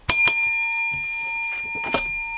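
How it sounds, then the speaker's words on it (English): A bell is rung twice in quick succession, two bright sharp strikes whose clear tone rings on steadily afterward while a voice talks softly underneath. "Probably should have rung the bell three times,"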